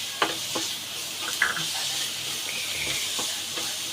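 Onions browning with ginger garlic paste in a pan, giving a steady close sizzle and hiss with a few stirring scrapes and knocks near the start and middle.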